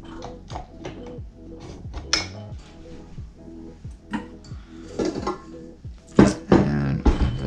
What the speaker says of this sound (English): I'm gonna go ahead and scrape down the beater.